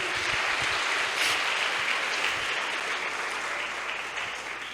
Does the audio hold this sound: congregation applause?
yes